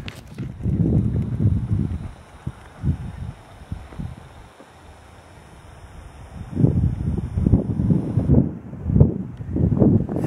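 Wind gusting outdoors and buffeting the microphone in low, rolling rumbles that swell, ease off midway and build again, with faint voices now and then.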